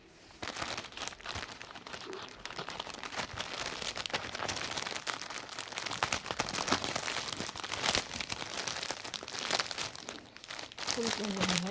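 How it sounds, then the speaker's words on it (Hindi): Plastic parcel packaging is opened with steady, close crinkling and rustling throughout, with someone speaking at times. "तो चलो पार्सल खोल के देखते हैं।"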